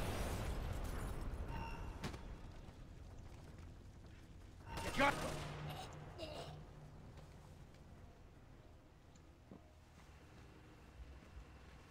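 Grenade blast in a video game, a single burst of noise rising mid-clip over a constant windy rumble, with scattered faint gunfire around it; a voice speaks briefly.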